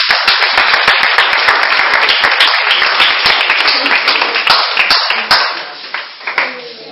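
A church congregation claps loudly in quick, fairly steady rhythm to acclaim Jesus after a deliverance prayer, the clapping close and dense at first, then thinning and fading toward the end with some voices mixed in.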